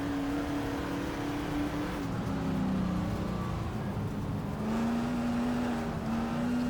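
A Mirage M1 race car engine at Spa in the GTR2 racing game, a steady droning engine note that dips and climbs as the car shifts and accelerates, heard alone.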